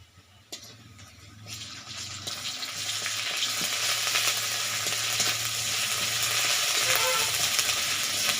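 Ginger-garlic paste dropped into hot oil after onion and five-spice, a sizzle that rises from soft to a loud, steady hiss within a few seconds and stays bright and close to the end.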